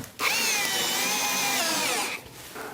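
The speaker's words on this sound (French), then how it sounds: "je perce d'abord des avant-trous" Power drill boring pilot holes for screws while installing a StandardLine sectional garage door, one close, loud whirring run of about two seconds that starts and stops abruptly.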